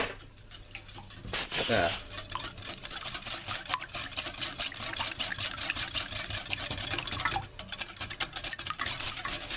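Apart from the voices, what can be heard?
whisking eggs with a whisk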